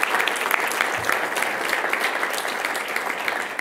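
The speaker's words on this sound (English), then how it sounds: "Ben, if you can stand so we can give you a big round of applause." An audience at a school district governing board meeting applauds a student golf champion with steady, dense clapping that holds for several seconds.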